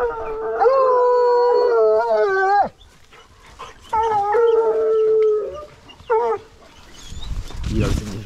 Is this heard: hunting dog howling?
yes